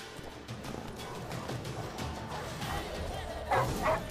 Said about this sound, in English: I don't play around with Hardy's dogs.